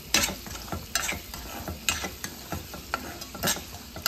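Fish pieces fry in a pan with a soft, continuous sizzle, broken by repeated sharp scraping clicks of a utensil against the pan at irregular intervals, close and moderately loud.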